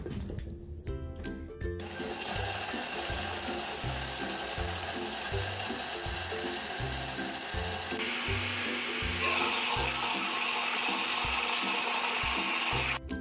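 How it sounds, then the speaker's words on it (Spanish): A blender grinds peanuts with water into a sauce, its motor running in a steady, loud whir with rhythmic churning throughout, and the pitch shifts slightly partway through as the mixture smooths out. "Ahora vamos a moler el maní."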